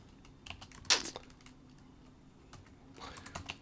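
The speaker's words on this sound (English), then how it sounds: "So I'm typing" Quiet typing on a computer keyboard: a few scattered, soft key clicks with one sharper burst of keystrokes, close to the microphone in a still room.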